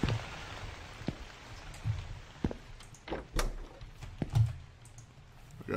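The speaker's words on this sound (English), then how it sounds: "Raining outside." Rain falls outside in a video game, a faint soft patter beneath scattered sharp clicks and taps, like keys or a mouse, with a few louder thumps.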